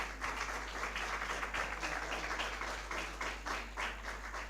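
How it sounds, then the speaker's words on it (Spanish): Audience applause for a doctor at the close of a university governance colloquium, a steady wash of clapping from a crowd sustained for several seconds. "por favor, un aplauso al doctor"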